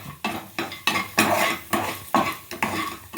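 Chopped pistachios, cashews and almonds are dry-roasted in a pan with constant stirring: sharp rhythmic scrapes and clatters of the spoon against metal, about three per second, loud and close, with faint sizzling between strokes.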